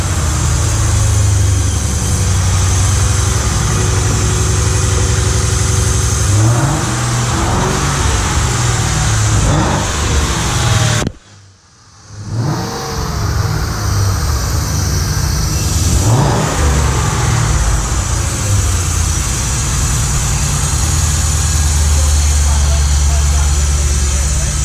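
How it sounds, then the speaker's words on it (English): A Lincoln Mark VIII fitted with a manual transmission revs loudly in long sustained pulls, its note suggesting an exhaust leak, with a brief drop in the middle before the engine roars again as people talk nearby. "Thought it was like an exhaust leak."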